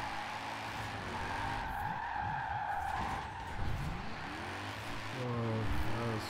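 A Mercedes C63 AMG drifts in Forza Horizon 4, tires squealing and skidding in a sustained wail over a revving engine that swoops up and down, loud and continuous.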